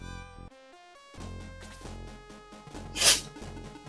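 A single sharp sneeze bursts out over video game music during a stream, loud and close, standing out briefly above the chiptune melody.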